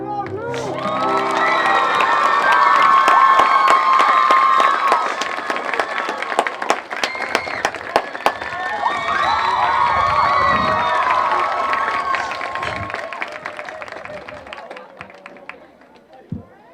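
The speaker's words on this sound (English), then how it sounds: "Can we get one more round of applause for Charlotte and Esther?" A graduation crowd at a middle college cheers, shouts and claps loudly, the noise peaking early, dipping, swelling again and then thinning out toward the end.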